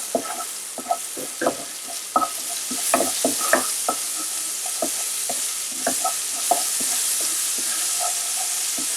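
Ginger paste is stirred and fried in hot oil for urad dal puri, with repeated sharp spoon scrapes and clicks over a continuous soft sizzle, irregular and close.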